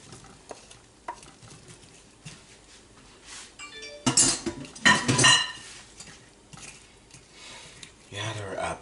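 Apples tumble into a pan for an apple pie filling, setting off a loud sizzling burst with clinking and scraping of a utensil against the pan, and speech can be heard at times.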